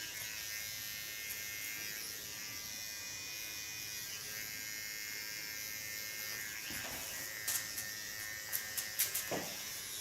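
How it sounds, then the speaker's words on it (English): A fine hair clipper cutting hair gives off a steady, close electric buzz that holds through the whole stretch, with a few short louder bursts near the end as it moves through the hair. "Take my fine clipper. It's also a totally different sound."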